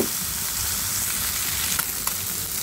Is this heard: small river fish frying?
yes